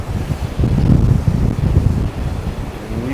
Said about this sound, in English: the wind is just blowing it really, really hard